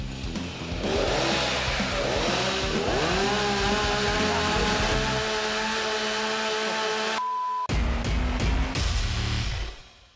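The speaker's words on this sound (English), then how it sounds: "Chainsaw versus bullet in styrofoam in 3, 2, 1." A chainsaw screams loudly and steadily, its pitch bogging as it bites into a styrofoam block, then cuts out abruptly before a final burst.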